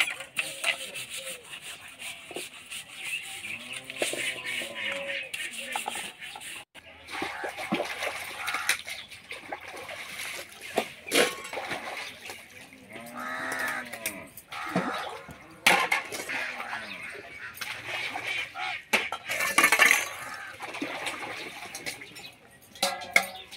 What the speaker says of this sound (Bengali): তো এই জলে বাসন ধুয়ে আবার ভালো জলে জল বুলাইতে হবে